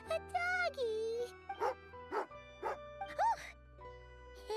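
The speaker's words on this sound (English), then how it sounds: "Oh, angry doggy." Angry dog in the video game Genshin Impact giving a handful of short, sharp barks and yips in quick succession, mixed with game music tones and jingling effects.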